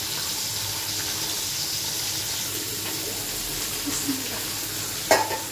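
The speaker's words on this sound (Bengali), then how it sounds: "এই যে আমি তরকারিটা বেশ ভালোভাবে কষিয়ে নিচ্ছি। এবার একটু নেড়ে উল্টো পাল্টে দিচ্ছি।" Curry for a fish dish being stirred and fried in a pan gives a steady, close sizzle with soft scraping throughout, ending in a sharper clatter near the end.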